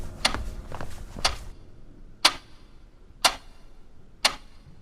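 A clock ticks steadily about once per second at 3 a.m., with sharp, distinct clicks that stand out clearly against a quiet room at night.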